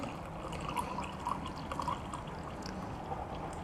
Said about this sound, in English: Give us some tea pouring.